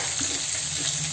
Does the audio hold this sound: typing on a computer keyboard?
no